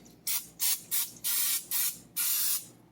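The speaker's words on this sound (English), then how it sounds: "I just happen to have some butter spray, and that's good." Butter-flavored cooking spray is sprayed onto a baking pan in six short hissing bursts, close and loud, with quiet gaps between them and no talking.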